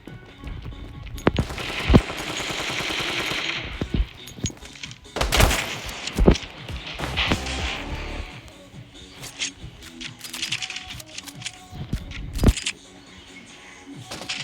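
Desert Eagle shots in the Standoff 2 video game ring out as sharp, irregular bangs, some single and some in quick clusters, among other game noises, with no talking.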